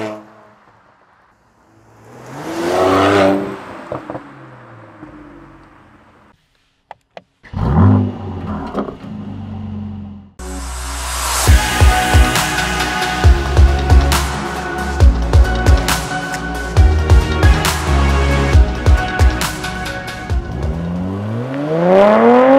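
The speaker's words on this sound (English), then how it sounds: "I have recorded every morning a different cold start with this car" A Mercedes engine cold-starts on a freezing morning. The starter cranks briefly, then the engine catches and settles into a loud, rough, rumbling idle with sharp pops that carries on steadily.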